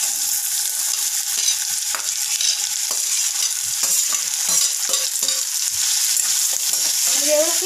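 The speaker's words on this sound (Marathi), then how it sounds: "त्यानंतर आपण कट केलेली कैरी ही फोडणीमध्ये घालूयात।" Raw mango pieces frying in a ginger-garlic and cumin tempering, a steady close sizzle with repeated scraping stirs of a spoon through the pan and no talking.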